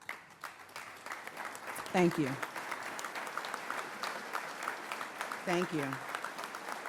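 A police academy graduation audience applauds in two steady bursts of clapping, moderately distant, with a voice speaking briefly over it.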